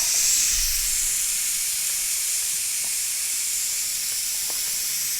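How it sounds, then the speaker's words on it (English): Steam hisses steadily out of a Ninja Foodi pressure cooker during a pressure release, a loud continuous whoosh that carries on alone without letting up. "we got to release that pressure right now"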